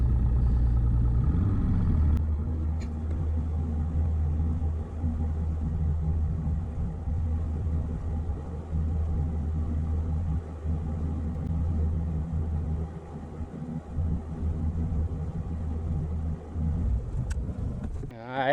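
Steady low outboard boat motor running in gear during compass calibration for a Garmin ECHOMAP on open water, a continuous rumbling drone throughout with faint speech underneath.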